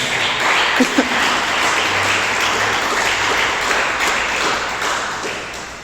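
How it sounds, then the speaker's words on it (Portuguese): Loud, sustained applause from a church congregation, a dense wash of many hands clapping together that continues steadily for about six seconds. "as palmas bem alegres para Jesus"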